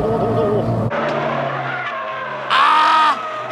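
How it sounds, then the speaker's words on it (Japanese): A race car skids through the final corner of a circuit with loud engine roar, then a sharp burst of tire squeal near the end, close and prominent. "最終コーナー、ノブも井口同様二足を使用"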